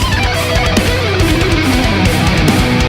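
A fast electric guitar lick, recorded direct and time-stretched to double speed, with an artificially sped-up, slightly smeared tone, plays over a dense, loud backing track with a steady drum pulse.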